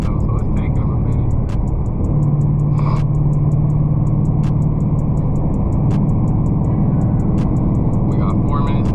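A 2018 Dodge Charger R/T on 22-inch wheels driven fast, its engine giving a steady loud drone with road roar and a rhythmic ticking overhead, while someone talks over it.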